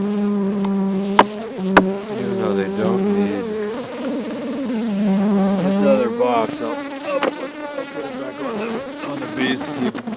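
A dense, steady drone of many honeybees buzzing around an open hive during a beekeeping inspection in Lewisburg, West Virginia, close and continuous with no talking.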